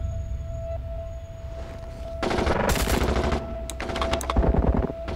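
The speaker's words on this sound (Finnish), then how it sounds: "Asematasolla ammuta." Automatic gunfire rings out across the Kajaani airport apron during an exercise, dense rattling bursts in two main volleys with scattered shots between, over a steady tonal hum.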